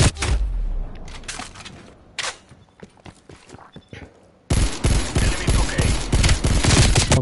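Rapid automatic gunfire bursts in a shooting video game, loud and close, with scattered single shots early on and then a sustained dense volley in the second half, while someone talks briefly.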